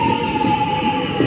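Commuter train arriving at an Australian station, a steady rumbling roar with a thin sustained whine above it, continuous and fairly loud throughout with no voices.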